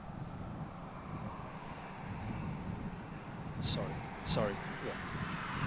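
A Chinook helicopter flying at the RAF Fairford airshow gives a low, steady distant rumble. A few brief words are spoken close by over it.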